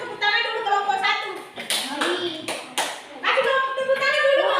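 A school class in Indonesia claps for the first group, bursts of hand clapping from many people mixed with children's and teacher's voices talking over them throughout.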